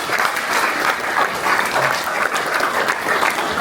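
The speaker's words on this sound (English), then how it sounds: "Can I give a round of applause for our friends," Steady, dense applause from an audience at a 21st birthday and farewell party, continuous and fairly loud across the whole stretch with no voice over it.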